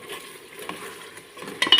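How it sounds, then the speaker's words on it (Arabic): Chicken frying in a pan during home cooking, with a soft steady sizzle and stirring scrapes that build into louder clatter of utensil against pan near the end, no talking. "دابا خوتي كيفاش تحمر."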